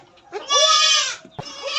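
A billy goat lets out one loud, close, quavering bleat, followed by a short thump and the start of another bleat.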